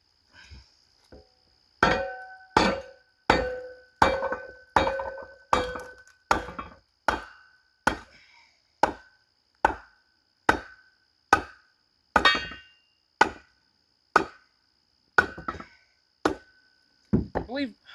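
Firewood split with a kindling cracker: a run of about twenty sharp, evenly spaced cracks and thuds, close and loud, each strike ringing briefly before the next.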